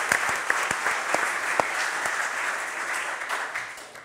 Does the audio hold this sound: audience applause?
yes